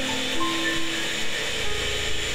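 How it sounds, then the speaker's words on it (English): A steady high-pitched whirring hum of a drill bit spinning, continuous and even, with no talking. "It's like a drill bit sound."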